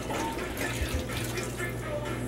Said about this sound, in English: now we're going to add 3 gallons of water to it